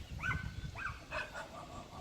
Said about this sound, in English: their neighbor dog's going nuts